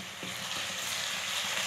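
Tomatoes hitting hot frying onions in a pan for aloo baingan, giving a steady, close sizzle with soft crackling that holds evenly throughout, no voices.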